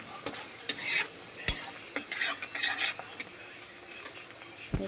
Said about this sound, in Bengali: তেল গরম করে নিয়ে পেঁয়াজ দিয়েছি।